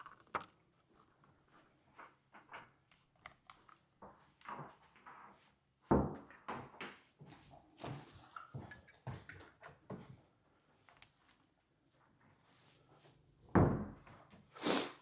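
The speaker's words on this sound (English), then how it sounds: "I'm going to go in here and start turning off lights and shutting doors." Doors shut inside a two-story stick-built tiny house: two firm thuds, one midway and one near the end, among quieter scattered knocks and footsteps in a hushed room.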